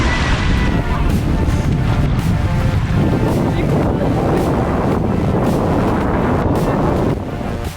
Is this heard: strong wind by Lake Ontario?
yes